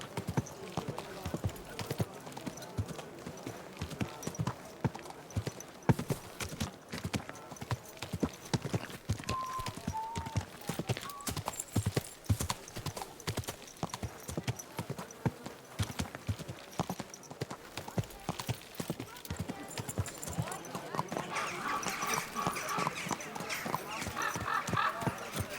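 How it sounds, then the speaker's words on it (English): Horse hooves clip-clopping steadily along a road, a continuous rhythmic trot with occasional snorts, mixed with a voice speaking and market bustle in the background. "Easy, good horse."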